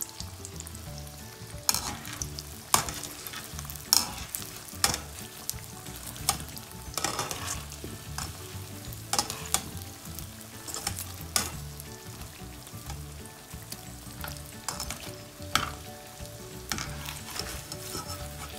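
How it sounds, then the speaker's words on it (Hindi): Mash and moong dal bhallay frying in hot oil, a steady crackling sizzle broken by sharp clinks and scrapes of a utensil stirring and turning them, close and fairly loud throughout. "तो यहाँ पे देखें मैंने इनको अगेन फ्राई कर रही हूँ।"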